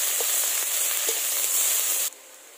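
Chopped onion frying in a pan, a bright continuous hiss of sizzling oil with faint stirring knocks that cuts off abruptly near the end, with no talking.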